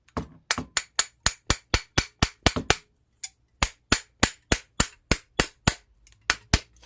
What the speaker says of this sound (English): All I'm doing is beating on it. Don't beat too hard because you can break it, just to break the seal.